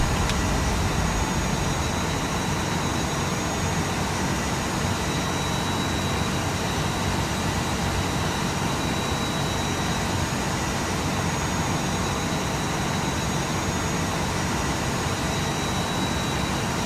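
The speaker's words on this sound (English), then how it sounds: "Starting engine 2." An airliner's number two jet engine spools up inside the Prepar3D flight simulator, a steady, loud broadband roar with a faint high whine held evenly throughout, no voices over it.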